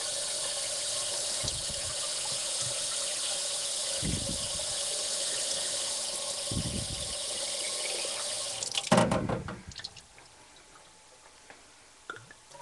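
Tap water pouring steadily into a container for about eight seconds, a broad close hiss with a few thumps, then the flow stops and only faint drips and handling remain.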